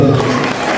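Wedding guests at Presenter Kai's wedding cheer and clap as a loud, dense crowd roar filling the whole moment.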